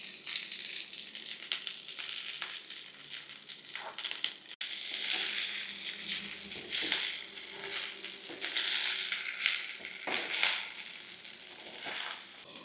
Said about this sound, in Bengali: এবার আমি ফ্রাই প্যানে বা কড়াইয়ে সবজিগুলো দিয়ে দিলাম খানিকটা।